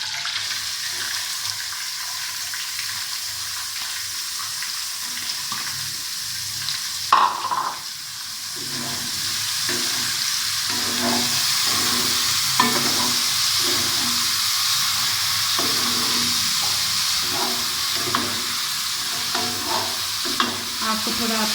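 Chopped onion and curry leaves frying in hot oil left over from cooking okra, a continuous close sizzle with bursts of stirring and scraping from a spoon against the pan, no voices.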